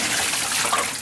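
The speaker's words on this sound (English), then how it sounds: "this dishwasher is going" A running dishwasher gives a steady, loud rush of spraying water that fills the whole moment without a break.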